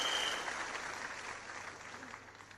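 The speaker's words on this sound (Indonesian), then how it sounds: "Tepuk tangan saja buat Tiansi saudara-saudara sekalian" Audience applause in a hall, a dense wash of many hands clapping that starts loud and slowly tapers off, with no talking over it.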